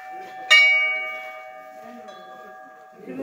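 A metal temple bell at the main gate of the Bansul Devta temple in Ramban district, Jammu, is struck once, a bright clang ringing on in a long, slowly fading hum.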